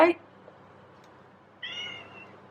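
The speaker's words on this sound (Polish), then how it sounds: "Jest kot." A cat meows once, short and fairly close, after a brief noise at the start and a stretch of quiet room sound.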